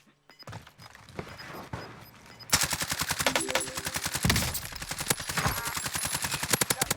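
Rapid automatic gunfire from a Call of Duty Warzone match, using a no-recoil Bullfrog submachine gun loadout: quiet movement first, then loud sustained bursts of evenly spaced shots that fill the rest of the clip.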